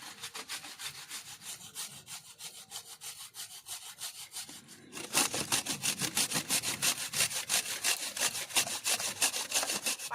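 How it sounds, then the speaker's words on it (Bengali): Patali jaggery scraped on a grater makes fast, rhythmic rasping strokes, lighter at first, then louder and denser after a short pause. "এখানে পাটালি গুঁড়ো আছে, এটা গ্রেট করে নেব।"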